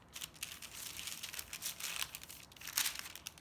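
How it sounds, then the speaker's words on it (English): Parchment paper being cut in half with a chef's knife: quiet, close crinkling and rustling with several sharper papery swishes and a tearing slice near the end, no talking. "So I have the parchment and I have a chef's knife, and I'm going to cut this in half."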